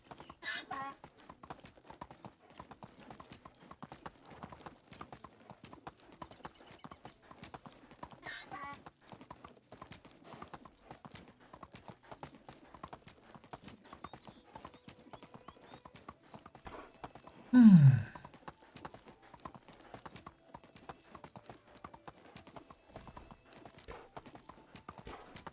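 Donkey hooves clip-clop steadily in Medieval Dynasty, a quiet, even rhythm of light taps throughout, interrupted by one louder braying call midway.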